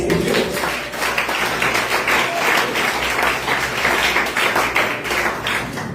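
Church congregation applauding during a Spanish-language sermon, a dense, steady wash of many hands clapping at close range for several seconds, with no voice over it.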